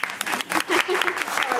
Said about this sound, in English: Now we'll clap.